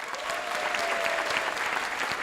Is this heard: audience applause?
yes